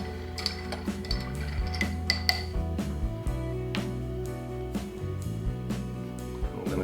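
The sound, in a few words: stirring vodka cranberry cocktail with ice in Collins glass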